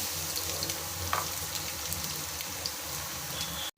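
Garlic sautéing in hot oil for okra masala, a continuous close sizzle and crackle with a few brief stirring clinks, steady and fairly loud.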